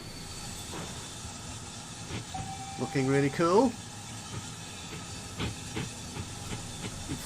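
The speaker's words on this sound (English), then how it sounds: "Our new train is going into Temple Meads." A train pulls into Bristol Temple Meads station in the railway-building game Transport Fever 2, with a rising two-tone horn blast and steam hiss over a steady rumble, while someone talks over it.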